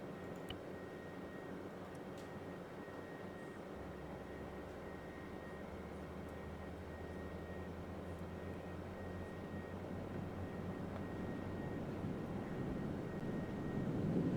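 Helicopter rotors in a video game spool up as a low rumbling roar that slowly builds in loudness, steady and continuous without talk.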